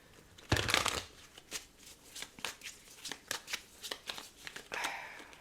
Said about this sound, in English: Oh, I'm just shuffling because I want to clarify